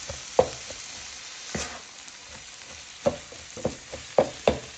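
Chopped cheese meat sizzles on a griddle under a steady frying hiss, broken by sharp scrapes and chops of a spatula at irregular intervals, close and clear.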